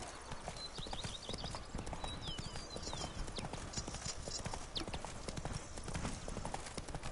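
Roach the horse trotting in The Witcher 3: Blood and Wine, a brisk, steady clip-clop of hooves up close, layered over game ambience with faint bird chirps.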